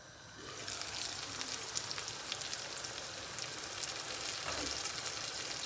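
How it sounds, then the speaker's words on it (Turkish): Forester's stew frying in a pot: a steady, soft sizzle and crackle of food cooking, with faint scraping and stirring noises, heard close and alone. "Bu ikinci karıştırışım."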